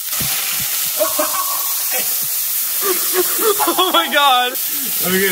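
A steak is laid into a hot pan and sizzles with a bright, continuous hiss, close and fairly loud, while a voice exclaims over it.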